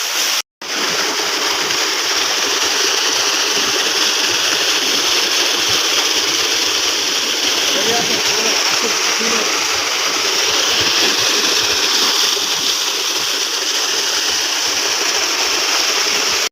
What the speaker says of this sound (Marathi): सोलारचं पाणी निघलेलं आहे